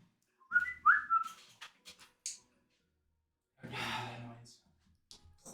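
A person gives two short, bright whistles at the start of a tabletop role-playing game session, followed by breathy sounds and a long sigh, all quiet and close.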